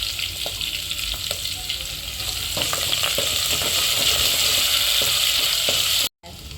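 A Marathi tempering for dal amti of curry leaves, asafoetida powder and crushed garlic sizzles in hot oil, a steady crackling fry with scattered stirring clicks, close and loud, cut off briefly near the end.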